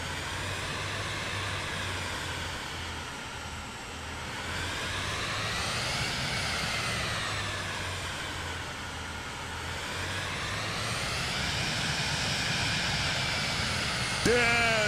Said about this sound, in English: Listen to this freaking plane.